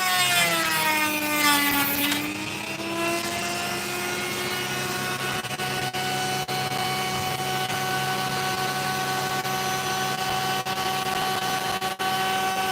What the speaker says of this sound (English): Come on, grind all that bad potch away